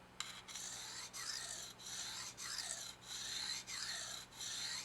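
A serrated knife edge is sharpened on a fine stone using its corner, giving soft rhythmic rasping strokes, about eight evenly spaced passes with brief pauses between, close and quiet with no talk.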